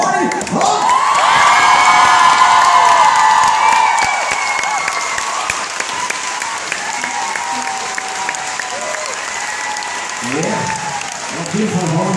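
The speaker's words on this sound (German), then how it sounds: "Da haben sie mal einen ordentlichen Applaus für mich." A concert crowd at a club show claps and cheers loudly, with whoops and shouted voices rising over sustained applause before it thins toward the end.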